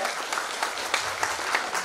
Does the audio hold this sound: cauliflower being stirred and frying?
no